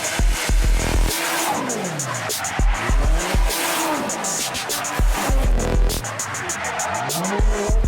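A drift car accelerates downhill toward a wall, engine screaming through repeated rising revs while the tires squeal and skid in long sweeping bursts, loud and close throughout.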